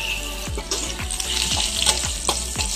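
Garlic sautéing in hot oil in a pan for sinampalukang bangus, a close, steady sizzle broken by several quick stirring scrapes.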